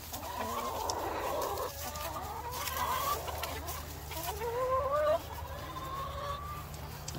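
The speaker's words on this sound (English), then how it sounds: "I think a chicken might have just went in there." Hens in a backyard coop cluck and murmur in drawn-out, rising calls, several birds overlapping at close range over a low steady hum, with no one speaking.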